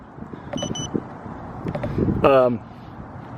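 A Teamgee electric longboard sounds its power-on alert: a pair of short, high electronic beeps, followed by a brighter, longer tonal beep. Steady wind-like background noise runs underneath.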